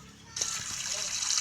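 Bath water splashing and running steadily in the Roblox game Brookhaven, a broad hiss that starts abruptly and continues with a few faint splashes beneath it.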